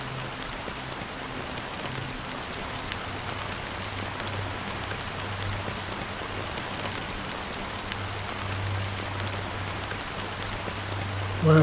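Continuous rain in a video game patters steadily on a surface, an even, close wash of drops with a low hum beneath and no voices.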